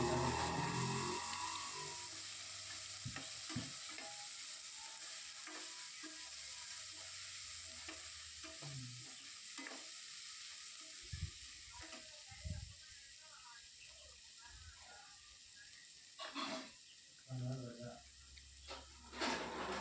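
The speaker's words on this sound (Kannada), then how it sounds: "ಹಸಿಮೆಣ್ಸಿನ್ಕಾಯಿ ಮತ್ತು ಈರುಳ್ಳಿ ಆ್ಯಡ್ ಮಾಡಿಬಿಟ್ಟು ಅದನ್ನು ಸ್ವಲ್ಪ ಫ್ರೈ ಮಾಡ್ತಿದ್ದೀನಿ ಎಣ್ಣೆಯಲ್ಲಿ" Chopped green chillies and onions fry in hot oil, giving a steady soft sizzle with scattered clinks and scrapes of stirring in the pan, fairly quiet and close, with no talking.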